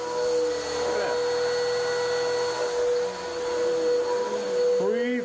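A vacuum cleaner drones steadily while picking up dry soil inside a house, a loud continuous whine with pitch shifts as the nozzle moves, running alone without talk.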